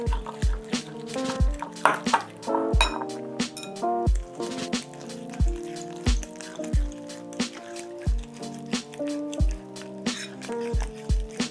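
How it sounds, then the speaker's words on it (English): Egg and mayonnaise paste stirred in a bowl, wet squishy slaps and drips repeating in a quick irregular rhythm, close and clear over background music, with no one speaking. "Stir it up."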